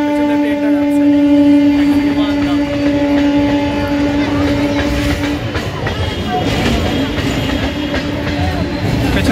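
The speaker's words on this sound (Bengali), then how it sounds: "ট্রেনটা চলে গেল।" A train rolls past close by near the Babughat ghat on the Ganges in Kolkata, a loud steady rumble with a droning tone that fades into clattering rail noise and general outdoor din.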